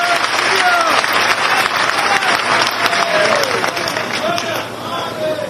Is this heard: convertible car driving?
no